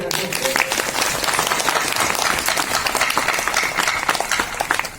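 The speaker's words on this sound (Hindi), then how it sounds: "एक बार ताली तो लगाइए" A crowd claps steadily in dense, continuous applause, with a faint murmur of voices mixed underneath.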